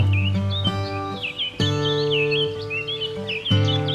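Several birds chirp and twitter in quick, varied calls over a sustained tonal drone in the background.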